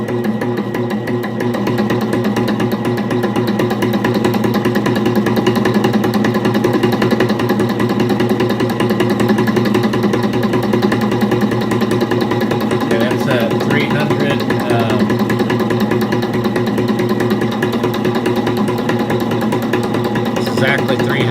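An RC shock piston dyno runs at 300 strokes a minute on a 34 mm stroke, a loud, steady machine hum and rapid mechanical chatter that continues unbroken throughout.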